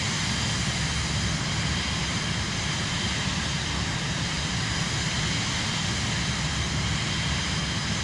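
Steady, unbroken roar of an Airbus airliner's engines in Microsoft Flight Simulator 2024 on PS5, a constant broadband drone at even loudness with no voices over it.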